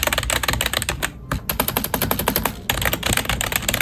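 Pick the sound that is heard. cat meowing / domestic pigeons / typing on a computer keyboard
typing on a computer keyboard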